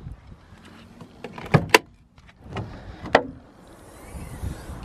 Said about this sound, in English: So let's pop the bonnet and let's take a look at what is underneath.